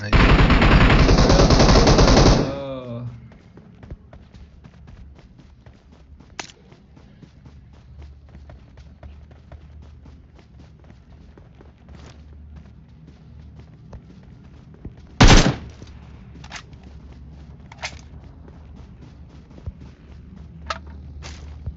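A loud burst of rapid automatic fire from an M249 machine gun in a video game for about two seconds, then quieter scattered single shots and a sharp blast, with footsteps and background game ambience.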